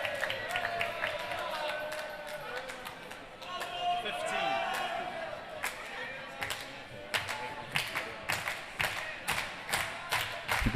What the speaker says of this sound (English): Look at that ball bouncing and bouncing